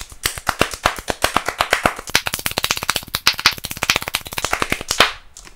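A spatula struck by one hand produces a rapid run of sharp, dry clap-like slaps, close and loud, coming in quick bursts that speed up before stopping abruptly.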